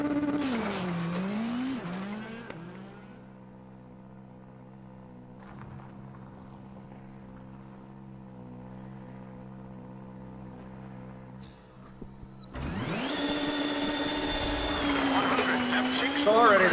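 Hyundai i20 WRC rally car engine in the racing game WRC 8, loud and revving hard at the start, dropping to a steadier lower drone through the middle, then surging again into a high, screaming acceleration near the end.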